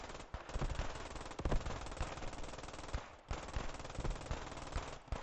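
Machine-gun fire in the Squad 44 video game during a Utah Beach assault. Continuous rapid automatic bursts with overlapping gunfire sit loud and dense throughout, with a brief pause near the middle. No voices are heard.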